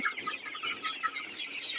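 Many Sonali chickens, 42 days old, clucking and chirping together in a poultry shed, a continuous busy chorus of overlapping calls at moderate distance.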